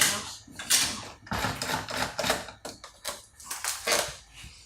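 Screws being undone during the teardown of a 20-year-old Toshiba laptop make close, rapid clicking, ratcheting and scraping sounds in uneven bursts, with no clear talking over them.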